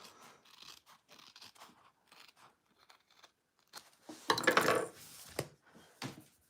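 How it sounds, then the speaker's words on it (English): Scissors trim excess sewing interfacing in a run of close, crisp snips and crunchy cuts, with a dense cluster of cutting toward the end. "I had some interfacing that went a little bit over. I'm just trimming that down."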